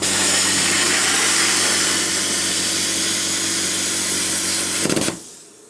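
Xtreme Plasma Cut 40 plasma cutter slicing through 3mm aluminium, a loud, steady, hissing roar that holds for about five seconds and then stops abruptly, leaving near silence.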